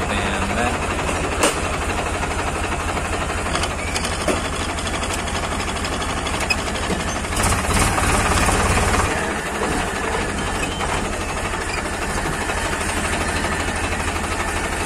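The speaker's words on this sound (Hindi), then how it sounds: "यहाँ ट्रैक्टर को डालते हैं अंदर" A tractor engine chugs and idles as it is driven in through a gate at a rural home, its steady low rumble close by with a louder surge midway and people talking over it.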